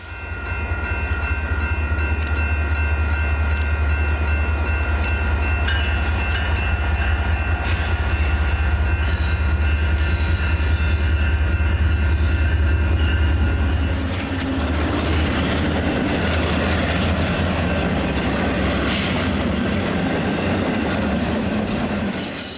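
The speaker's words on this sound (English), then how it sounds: "Another southbound is coming through San Marcos off of the Lockhart Subdivision." A southbound BNSF priority intermodal freight train passes through San Marcos, Texas: loud, deep locomotive rumble giving way to rolling wagons with rhythmic clickety-clack and high wheel squeal, close and sustained throughout.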